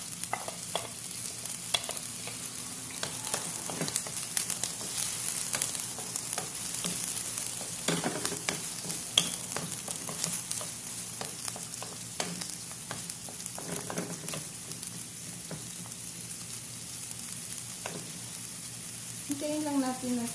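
Finely chopped onion sizzles steadily in a hot pan while being stirred, the start of a cheesy baked macaroni sauce; the frying hiss runs throughout, with occasional stirring clicks and a faint voice now and then.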